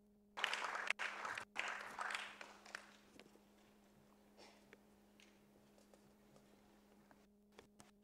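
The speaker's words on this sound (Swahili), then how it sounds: "Naomba tupige makofi mengi sana." Applause from an audience at the launch of a logistics and transport professionals' association in Tanzania, starting as a loud burst of clapping and fading over several seconds into scattered claps and quiet room noise.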